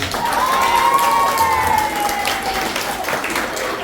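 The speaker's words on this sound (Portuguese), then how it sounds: "Palmas pra ele também, gente." Audience at a first-year school literary café performance in Iguaí, Bahia breaks into steady applause mixed with cheering and crowd noise, with a sustained tone or shout riding over it, continuous and fairly loud throughout.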